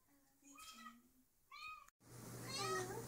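A pet cat meows several times up close, short rising and falling calls separated by pauses, with a person softly talking near the end.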